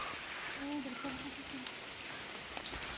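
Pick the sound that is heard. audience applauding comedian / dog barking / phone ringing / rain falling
rain falling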